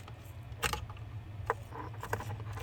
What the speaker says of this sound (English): Just use the flathead screwdriver to pull up on the little locking tab and then press